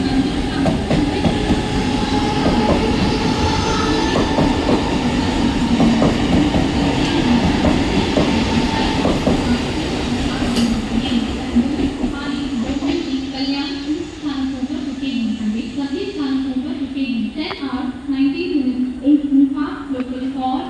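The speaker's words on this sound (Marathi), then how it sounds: "Local for Ambernath is arriving shortly on platform number 3." A Mumbai Central line local train for Ambernath pulls into platform 3 at Vikhroli station, a loud steady rumble of wheels and cars with rhythmic clatter, while a platform announcement voice speaks over it throughout.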